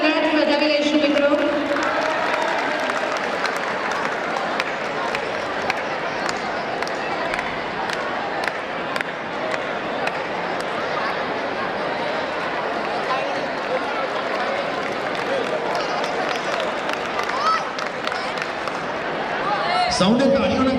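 Sustained crowd applause at a school annual day function fills the hall steadily for about twenty seconds, broad and dense, with a voice heard briefly at the start and again at the end.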